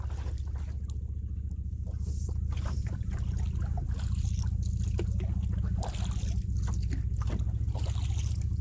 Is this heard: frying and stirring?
no